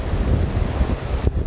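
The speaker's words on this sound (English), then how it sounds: "Some big gusts of wind coming through." Big gusts of wind blow across a mountainside on Aconcagua, buffeting the microphone with a low, rumbling roar that surges and dips for a moment before a brief break.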